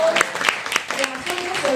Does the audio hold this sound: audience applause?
yes